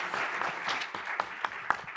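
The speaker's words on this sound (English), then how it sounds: "They deserve that hand of applause." Audience applause at a formal ceremony marking Rwanda's 60th anniversary as a United Nations member, a faint, even patter of many hands with a few sharper claps standing out over two seconds.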